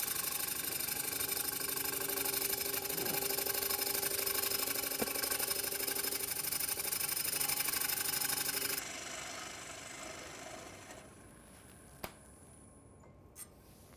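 A wood lathe spins steadily with a continuous whirring drone while a tool cuts across the face of a wooden three-legged stool seat. The drone drops and fades near the end, followed by a couple of faint clicks.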